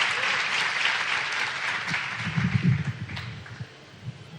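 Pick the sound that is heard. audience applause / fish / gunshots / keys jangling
audience applause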